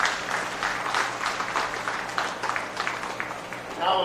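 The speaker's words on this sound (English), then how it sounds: "give those young exhibitors a round of applause" A crowd at a county fair beef show claps for the young exhibitors, a steady, moderately loud round of applause that lasts the whole stretch and has a few faint voices underneath.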